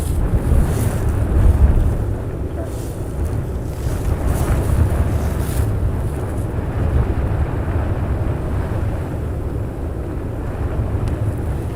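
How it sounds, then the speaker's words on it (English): Wind blows steadily at Amsterdam Schiphol Airport, a constant low rumble of gusts buffeting the microphone for the whole stretch, with no voices. "The wind blowing."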